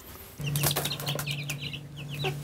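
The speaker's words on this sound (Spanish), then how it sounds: "este joven, pollito bebé, 10 días de vida, ya está comiendo maíz molido" A ten-day-old baby chick chirps in short, high, rapid peeps over a steady low farm hum, fairly faint and close, with a few soft rustles and no talking.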